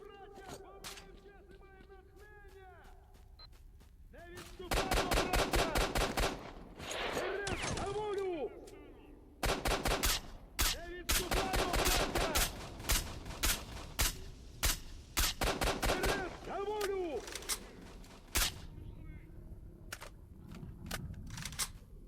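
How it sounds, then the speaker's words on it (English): Bursts of automatic gunfire from a Monolith fighter in STALKER: Shadow of Chernobyl, several loud rattling volleys spaced across the scene with ambient game sounds and creature noises between them. "So there was a monolith guy shooting around over here."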